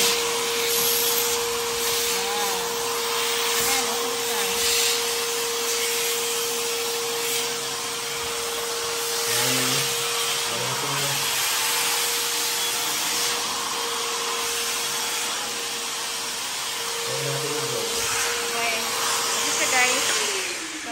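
A Lotus wet/dry vacuum cleaner sucking up dust from a window area, a loud continuous whining drone with a steady high tone, its pitch briefly shifting a few times as the nozzle moves, running throughout.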